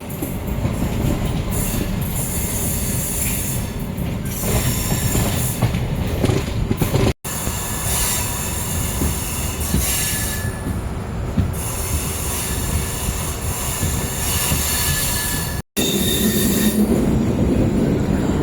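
A MEMU passenger train running on rails in Kerala on the Shoranur–Ernakulam line: loud, constant rolling rumble with rattling carriages and squealing wheels, heard from on board and continuous throughout.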